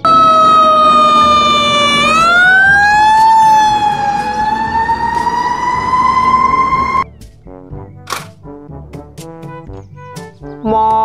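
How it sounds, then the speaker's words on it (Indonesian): A loud fire truck siren wails close by, holding high and then sweeping upward, before cutting off abruptly into other, quieter sounds. "mobil truk pemadam kebakaran"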